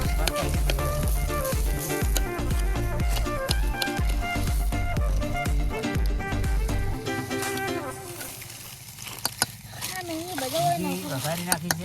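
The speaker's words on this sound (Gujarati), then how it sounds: "ઘી વઘારી નાખ્યું છે બરાબર" Methi (fenugreek) tempered in hot sizzling ghee for a Gujarati home dish, a steady crackling sizzle running beneath continuous talking and background noise.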